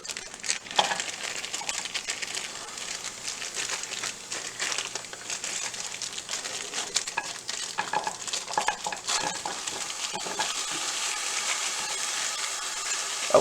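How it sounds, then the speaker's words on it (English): Carrots sizzling on an outdoor grill, a steady, close, hissing crackle with scattered pops and light rustling handling noises, no talk. "we'll throw those carrots on the grill right now and just get them on there"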